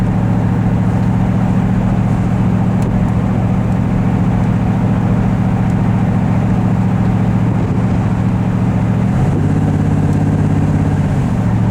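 A 6.0 LS truck engine in an Olds Custom Cruiser wagon drones loud and steady at a low cruising pitch, shifting slightly near the end, with no talk.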